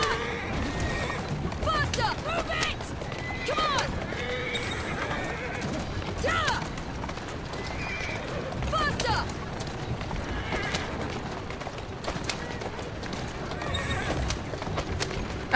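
In the video game Assassin's Creed Syndicate, horses whinny and neigh repeatedly over a busy clatter of hooves, with people talking and shouting throughout.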